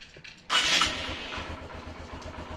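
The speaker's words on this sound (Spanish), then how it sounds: "La moto siempre enciende a la primera" A Honda CB 125F Twister motorcycle engine fires up abruptly after a brief crank and settles into a steady, throbbing idle close by.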